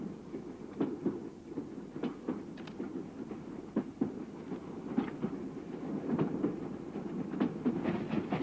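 A moving train heard from inside a passenger car, with a steady low rumble and repeated clickety-clack wheel beats over the rail joints, irregular and moderately quiet throughout.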